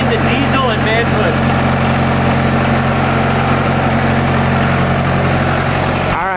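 A diesel tractor engine idles loud and steady at close range, a constant low throbbing rumble that runs unbroken throughout and stops abruptly at the end.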